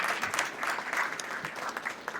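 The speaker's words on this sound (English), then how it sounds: "Give them one more round of applause" Applause from the audience at a Franklin Township board of education meeting, a steady round of many hands clapping at moderate volume with no voices over it.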